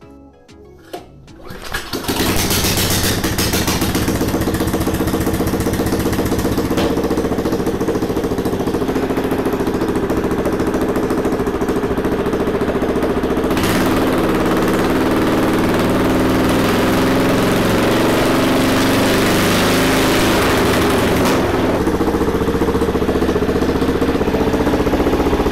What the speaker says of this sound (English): Gotta love a motor with no exhaust.